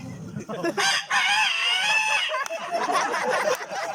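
A mimicry artist voices a rooster's crow, a long drawn-out cock-a-doodle-doo with bright harmonic tone, delivered close and loud over a murmur of crowd noise.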